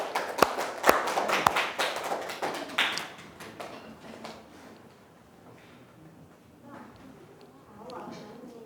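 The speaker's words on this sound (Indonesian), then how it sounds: "kasih tepuk tangan dulu" Group applause in a classroom, a burst of quick claps from several students that fades out over a few seconds into quiet room noise with faint murmuring.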